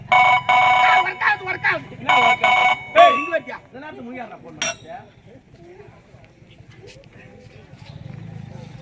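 A telephone rings in several short, loud, bright bursts during a stage comedy skit, then fades into a faint rustling background as voices take over.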